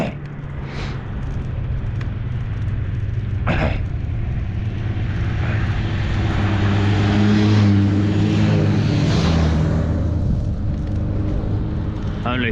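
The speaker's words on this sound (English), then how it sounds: "I thought I'd film the motorbikes." Three motorbikes roar past with rising and falling drones, blending into one loud, continuous rumble that swells and fades.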